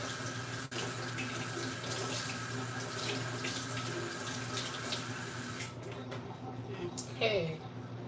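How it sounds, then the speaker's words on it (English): Hands are washed under a running kitchen tap, a steady close stream of water splashing into the sink, with brief rubbing and a few clatters near the end. "I'm going to wash my hands."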